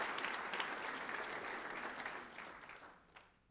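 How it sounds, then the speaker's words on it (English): Applause from an audience at an alumni awards banquet, a dense, close round of clapping that holds steady and then thins and fades toward the end. "Let's give a round of applause for Larry Mannesmith, our 2005 Distinguished Alumni Awards recipient"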